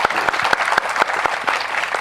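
Audience applause at a birthday salute during an environmental law event in Brazil, steady dense clapping from a crowd with sharp individual claps standing out, loud and sustained throughout without speech.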